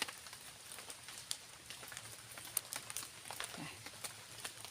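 Rain falls lightly during mushroom foraging, a faint, sparse patter with scattered drops tapping on surfaces over a quiet outdoor background.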